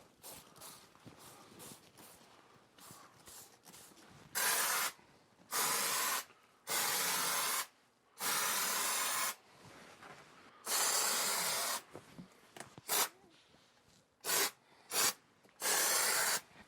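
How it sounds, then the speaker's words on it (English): A spray bottle lightly mists water over freshly applied soundproofing spray foam, with about ten short hissing bursts in an uneven rhythm, close and fairly loud against a quiet room. "Let's spray it lightly with a mist of water."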